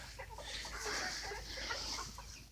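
Chickens, a rooster and a hen, cluck softly at a distance in a steady, faint murmur of fowl chatter with no clear single call standing out.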